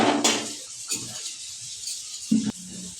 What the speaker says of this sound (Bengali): এবার তরকারিটা নামিয়ে নিচ্ছি